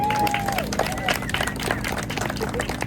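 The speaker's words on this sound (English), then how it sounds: "give her a round of applause" Outdoor crowd at a Clearlake pathway gathering applauding a city resilience and climate change manager, scattered clapping mixed with murmuring voices and crowd babble, moderately loud and uneven throughout.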